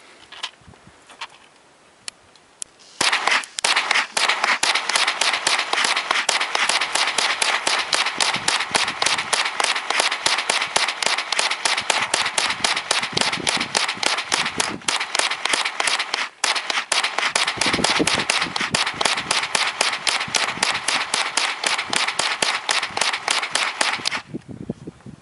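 A Marlin 795 rifle fed from a Promag 70-round drum fires Winchester Super X 37 grain bullets. After a few seconds of quiet, a long, loud, rapid and evenly paced string of shots runs for about twenty seconds, then stops.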